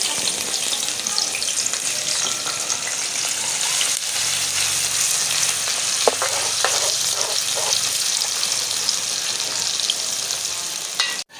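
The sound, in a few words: onions frying in hot ghee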